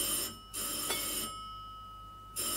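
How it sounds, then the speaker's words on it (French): An old telephone bell from a 1935 film rings in two bursts with a pause between, clear and fairly close, with no talk over it. "Ah, téléphone."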